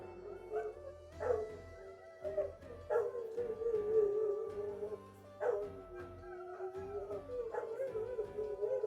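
Several dogs howl and bark nearby, long wavering howls rising and falling repeatedly over a few sharper barks, loud and without talk.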